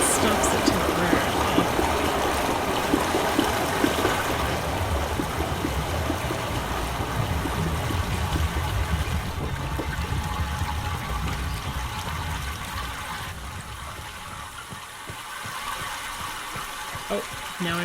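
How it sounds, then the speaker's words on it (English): Water running through pipes in Myst, a steady rushing, gurgling flow that fills the scene and slowly fades toward the end. "now I'm hearing water running through this"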